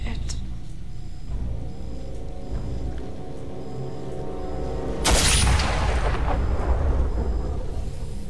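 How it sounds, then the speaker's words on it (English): A loud broadband boom like a thunderclap from a gunshot in the StarCraft 2 mission Whispers of Doom, bursting suddenly over game music and ambience and decaying slowly over several seconds. "I like how the gunshot sounded like thunder"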